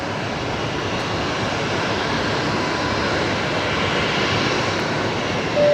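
Airplane departing Brisbane Airport, a loud, continuous engine roar that holds steady through the short stretch with no talking.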